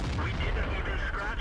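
Tank gun fire in World of Tanks from an AT7 tank destroyer: a loud, dense low boom that fills the short moment with rumbling, layered battle noise.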